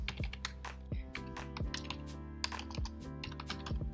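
Code being typed on a computer keyboard while writing a PHP REST API, steady close rapid key clicks and clacks in uneven bursts, no talking.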